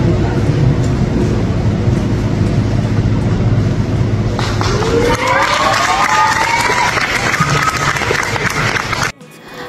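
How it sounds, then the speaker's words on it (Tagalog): A church wedding crowd cheers and shouts loudly as the newlyweds kiss, a dense roar of voices with applause and whistling mixed in, cutting off abruptly near the end. "At lalong hiyawan ang mga tao na hinahalikan na ni Carlo Aquino ang kanyang asawa."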